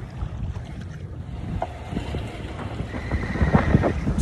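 Wind buffets a Catalina 22 sailboat under sail, a loud rumbling gusty roar against the microphone that builds toward the end, with water and hull noise beneath.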